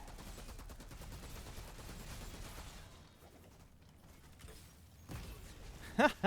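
Rapid gunfire rattles in the Outriders video game as a sniper is shot, a continuous burst fading out midway, then a few louder, sharper shots near the end.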